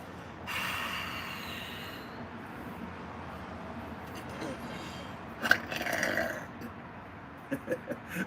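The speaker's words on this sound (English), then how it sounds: "excuse my burp" A deep, rumbling burp partway through, preceded by faint background noise and followed by a few short throaty sounds.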